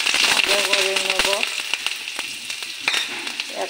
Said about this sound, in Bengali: এখন গ্যাসটা কমিয়ে কাঁচা লঙ্কাটা ভাজা করে নেব।